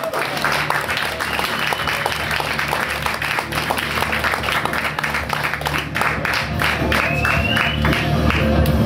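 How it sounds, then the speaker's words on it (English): A comedy club crowd in Los Angeles claps and cheers for a stand-up comic taking the stage, loud continuous applause with whoops and shouts running throughout. "Start clapping right now for Luchana Gatica"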